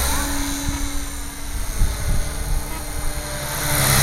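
A Gaui 550 RC helicopter whirs steadily nearby, its rotor drone rising and falling slightly with a mechanical buzz, no voices over it.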